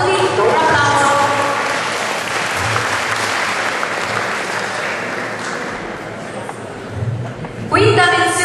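An audience applauds at an Italian arts-and-crafts awards ceremony, Arti Applicate e Mestieri. The clapping is loud and dense, sustains for several seconds, eases slightly and then swells again near the end.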